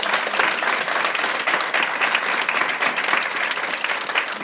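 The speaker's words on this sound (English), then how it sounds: "Let's give her a round of applause." An audience applauds an honoree at a school district hall of fame ceremony, dense steady clapping close and loud throughout with no talk.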